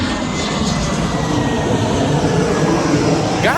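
A loud, steady roar of a jet aircraft passing overhead near a car rental place in Los Angeles, a broad rumbling wash of engine noise that fills the whole clip.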